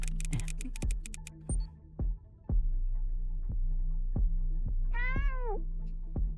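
A cat gives a single clear, rising-and-falling meow near the end, over a steady rhythmic ticking and a low hum that pulse evenly throughout.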